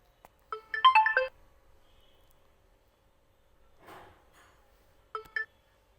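A phone ringtone from an incoming call plays during a BEP20 token transfer: a short bright melodic burst of electronic tones, a faint crackle, then a second briefer burst, all quiet and alone with no talk.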